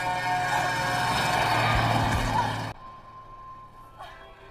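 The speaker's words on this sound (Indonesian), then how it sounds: "Ellison nyaris diserempet truk yang melintas sangat cepat di jalur itu" A truck roars past at high speed on a road, nearly hitting a running boy in a film scene, loud engine and tire noise sustained before cutting abruptly to a quieter background.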